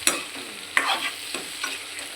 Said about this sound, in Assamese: এইফালে ভাজিখিনি হ'বলৈ হৈছে আৰু এতিয়া